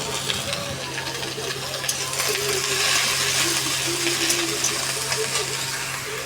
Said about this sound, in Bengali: এখন এখানে পেঁয়াজ কলি ভাজবো